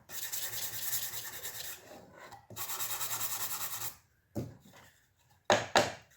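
A wooden box is hand sanded in long rasping strokes, first as two sustained stretches and then as a few short scrubbing bursts, close and fairly loud.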